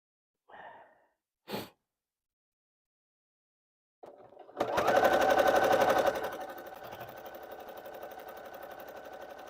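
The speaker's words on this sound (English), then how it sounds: "the walking foot's really loud on its own" A sewing machine fitted with a walking foot starts after a couple of short breaths and runs in a fast, rhythmic, close stitching clatter while quilting, loud at first and then easing slightly but continuing.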